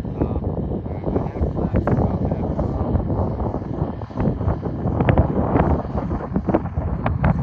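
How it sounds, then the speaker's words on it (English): Strong desert wind buffets the microphone during an RC Ryanair 737 Max flight, a dense continuous roar with gusty swells and a faint aircraft engine hum underneath, steady and loud throughout. "A lot of wind right now, so gyro's working overtime."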